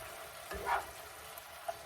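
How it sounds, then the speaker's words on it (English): Ground beef browning in a home kitchen pan gives a soft, steady sizzle with one brief louder burst of crackle midway, heard close and without talk. "the beef is browning fabulously"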